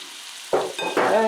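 Garlic, lemon juice and rosé are mixed together in a bowl. After a moment of quiet come two wet swishing stirring strokes, close and distinct.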